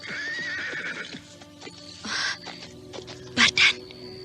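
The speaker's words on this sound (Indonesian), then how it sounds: "Ada suara kuda di luar." A horse whinnies loudly twice near the end of the clip, after clip-clop hooves from a horse-drawn carriage outside, with a faint murmur and ambient tones running underneath.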